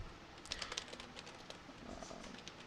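Soft, quick clicks of keys being typed on a computer keyboard, a short irregular burst of taps, faint and close in a quiet room.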